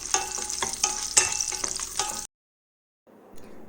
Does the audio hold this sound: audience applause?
no